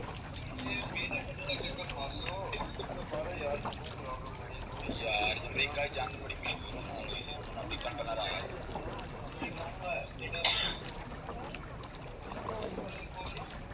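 A small boat moves through water on a river trip in Ninh Binh, Vietnam, with gentle lapping and a low steady rumble throughout while people chatter and talk nearby.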